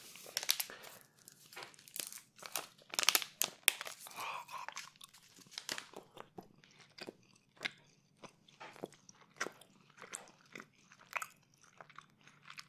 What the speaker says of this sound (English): make some mouth sounds with this delicious chocolate here